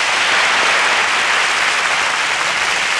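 Loud, dense studio audience applause on a Spanish television music show, a continuous roar of clapping that stays strong and unbroken from start to finish.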